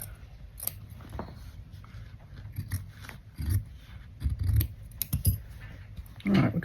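Scissors trimming fabric or material for handmade tags, a few short snips and rustling scrapes spread across the clip at close range, with faint handling noises between cuts and no talk.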